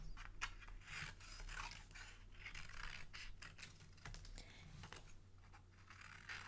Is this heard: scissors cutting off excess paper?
yes